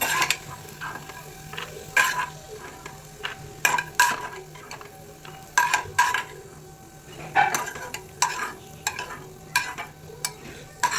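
A spatula stirs roasted peanuts around a hot pan while cooking kande pohe. It makes close, irregular scraping and rattling strokes with a faint sizzle underneath, and no one speaks.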